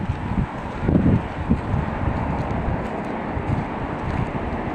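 Strong wind on a seaside promenade in Dasman, Kuwait City, at night, buffeting the microphone in loud continuous roaring gusts with a heavier blast early on.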